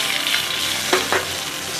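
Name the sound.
two sausages frying on a Horizon camping stove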